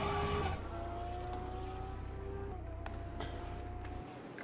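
Steady engine drone of an Audi race car driving in RaceRoom, held at a constant pitch with faint tonal whines and a couple of brief clicks, fairly quiet throughout before dropping off at the end.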